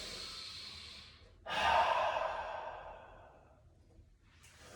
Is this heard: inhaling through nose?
yes